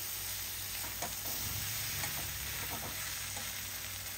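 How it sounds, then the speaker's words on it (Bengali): A hilsa fish head is stirred into taro leaves frying in a pan, making a continuous close sizzle broken by scraping stirs and soft bumps through the middle, with no talking. "এখানে দিয়ে দেব মাছের মুড়ো। আবারও একটু নাড়াচাড়া করে নেব।"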